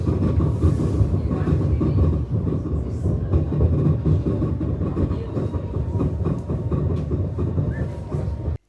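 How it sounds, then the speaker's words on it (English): A slow mountain train running between Lauterbrunnen and Wengen in Switzerland, rumbling steadily along the rails with a continuous low rolling roar and faint rhythmic clatter throughout, close and fairly loud. "The train moves quite slow, but it does give you enough time to look at the landscape."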